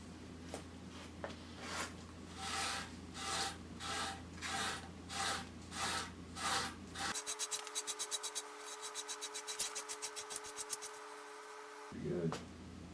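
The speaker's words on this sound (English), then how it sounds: "take some Scotch-Brite and polish out these scratches" A Scotch-Brite pad rubs over scratches on a mahogany guitar body in steady back-and-forth strokes, close and quiet, the rhythmic scrubbing turning into a faster, buzzier rasp partway through.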